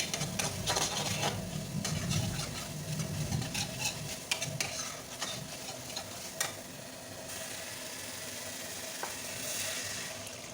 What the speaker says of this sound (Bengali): গরম মশলাগুলো দিলাম এটাকে ভালো করে নেড়ে চেড়ে ওই যে তেল ছেড়ে গেছে